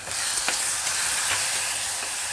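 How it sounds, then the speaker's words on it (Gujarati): Finely chopped onions frying in a pan over low heat give a steady, even sizzling hiss, close and continuous with no voices. "એમાં પહેલાં આપણે ડુંગળીનો વઘાર કરશું ઝીણી ડુંગળી મોળીને રાખી હતી એને આપણે પાંચક મિનિટ સુધી સાતળવાની છે ધીમા તાપે"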